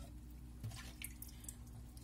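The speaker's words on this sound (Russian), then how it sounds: "Поэтому воду я всегда выливаю." Water trickles and splashes steadily as it is poured out of an orchid pot's saucer, a quiet continuous flow with a few brighter drips, no voices.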